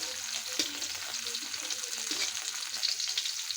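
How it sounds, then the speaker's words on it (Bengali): Two green chillies frying in a pan, a soft steady sizzle with light stirring scrapes, quiet and close with no voices. "দুটো মরিচ ভাজা নিতে হবে"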